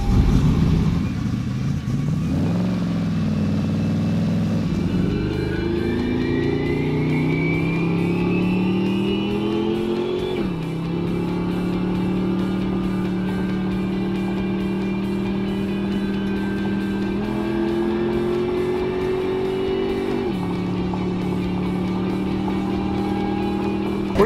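A 2,000 hp Toyota Land Speed Cruiser SUV accelerates hard at speed during a speed record run. The engine roars loudly and steadily, with rising pitch sweeps broken by smooth gear shifts, heard close for over twenty seconds.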